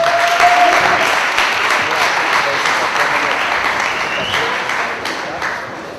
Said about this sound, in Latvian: Aplausus viņiem.